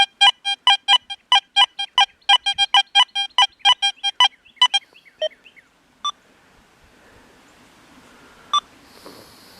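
A Deus 2 metal detector fitted with a 9-inch coil gives a rapid run of sharp high-pitched electronic beeps, thinning into a few scattered chirps and then near silence.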